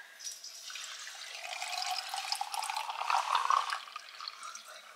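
Iced coffee being poured into a cup over ice: a continuous liquid trickle that builds and splashes, with ice clinking near the end, heard close and fairly quiet.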